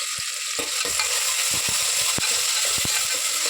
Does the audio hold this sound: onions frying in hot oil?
yes